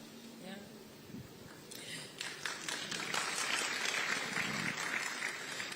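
An audience applauds at a speech event, the clapping building from scattered claps into fuller applause, while a voice talks faintly at the start.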